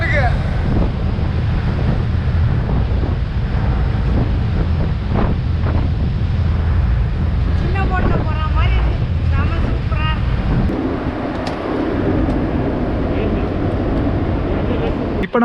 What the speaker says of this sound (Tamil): இங்கே வேறு தண்ணி புசு புசுன்னு உள்ள செமையாக அடிச்சுன்னு வருதுங்க.